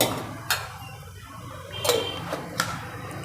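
A metal pan is set on the stove and handled before ghee goes in for carrot and beetroot barfi, giving three separate clanks and knocks over a low, steady background hum.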